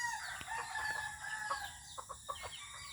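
A three-month-old rooster of a good breed crows repeatedly, the calls rising and falling close by over a bed of clucking and other fowl noise, with no talking.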